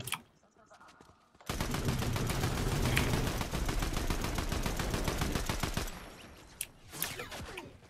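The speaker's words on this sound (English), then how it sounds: "Woo! Gunshots!" Rapid, sustained video game gunfire in a Fortnite match bursts in after a quiet moment and rattles on dense and loud for about four seconds, then thins into a few scattered shots.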